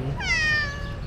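A cat on a street in Istanbul gives one short, clear meow close by, over a low background hum.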